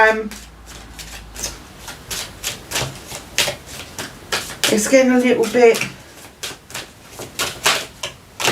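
Tarot cards riffling and slapping in a steady shuffling rhythm, close and fairly loud, with a brief voice-like tone in the middle.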